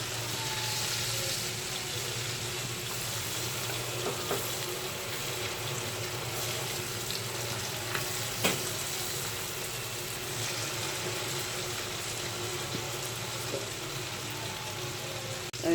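Fish sizzles steadily in hot oil in a pan as it is turned over, a continuous close frying hiss with a few faint clicks from the utensil and no talking.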